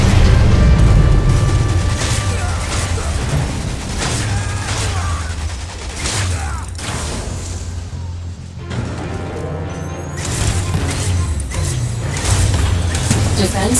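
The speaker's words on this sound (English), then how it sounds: "Nuclear weapon launched." A video game nuclear weapon detonation rumbles in a dense barrage of booms and gunfire-like crashes, loud and continuous for the full stretch with a brief dip midway, under game voice callouts.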